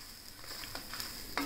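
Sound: roasting chutney powder ingredients in a pan on low flame

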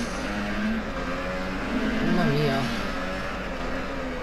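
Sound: motorcycle engine racing in MotoGP 15 video game

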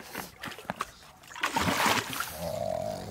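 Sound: jumping into water, splashing

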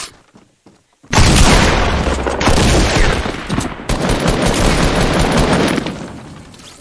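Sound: shotgun shots in a video game

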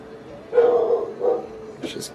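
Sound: puppy barking

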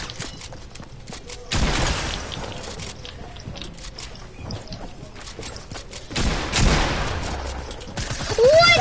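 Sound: gunfire in a shooting video game

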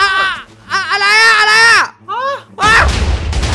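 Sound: TNT bomb explosions in Minecraft video game

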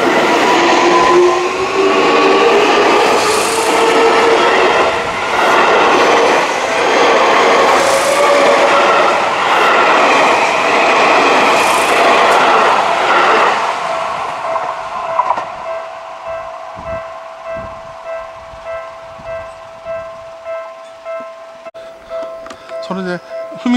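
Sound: train passing

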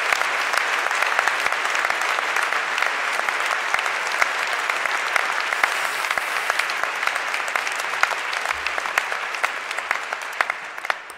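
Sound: applause for the graduating class

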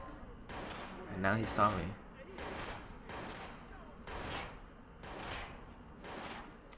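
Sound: gunshots in video game Watch Dogs

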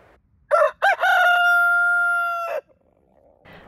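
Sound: New Hampshire Red rooster crowing

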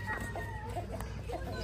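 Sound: rooster crowing

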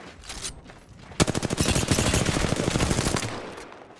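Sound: gunfire in a console video game

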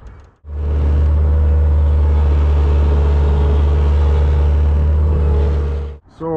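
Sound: vehicle pulling up at job site

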